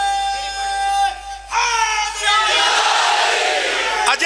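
At a Shab-e-Miraj religious gathering, a large crowd roars the Naara-e-Haidri slogan in unison after a man's long sung call, a loud sustained collective shout filling the hall.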